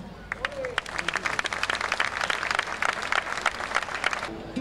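Audience at a flamenco festival applauding the singer as he takes the stage, a dense burst of sharp claps that fills the space, with some voices mixed in.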